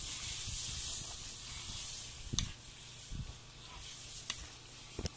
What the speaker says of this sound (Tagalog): I-mekos-mekos natin hanggang sa maghiwalay ang toyo sa mantika.